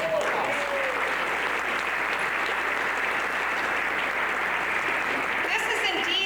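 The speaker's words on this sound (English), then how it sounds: "Let's give them a round of applause" An audience at a Rotary district conference gives a steady round of applause, a continuous wash of many hands clapping with some murmuring voices under it.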